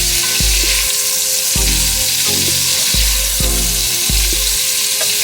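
Sausages browning in a pan for Sunday gumbo give off a loud, steady sizzle and crackle that holds through the whole stretch, with no talking over it.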